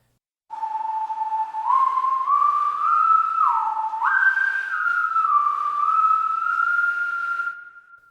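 A smooth, electronic-sounding whistle tone holds steady for several seconds, gliding up and down in pitch like a theremin, loud and alone.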